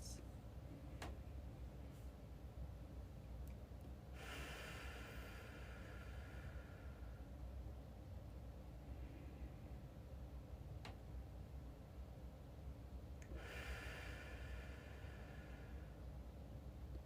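Slow, deep breaths taken during a guided relaxation exercise: two long, soft airy breaths rise out of a steady low background hum, spaced several seconds apart.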